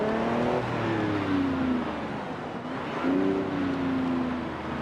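A Lamborghini Revuelto hybrid reverses in Forza Horizon 5, giving a continuous, fairly loud motor whine that sweeps down in pitch, dips, then rises again and settles. No one speaks.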